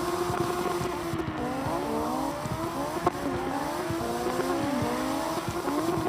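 Race cars take a victory lap at a slide event, Round 4 at Red Ring. Engines rev and tires squeal in long sliding wails, steady and fairly close, with no voices over them.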